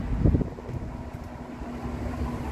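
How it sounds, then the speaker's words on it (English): Outdoor wind rumbles and buffets the microphone in a steady low roar, with a brief stronger gust near the start. "it's so windy"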